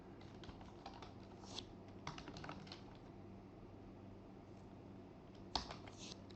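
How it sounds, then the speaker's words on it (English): Typing on a computer keyboard to enter an administrator username and password on a Windows Server 2019 machine: faint, quiet key clicks in short bursts, with a sharper tap near the end. "here I'm going to type the administration username and password"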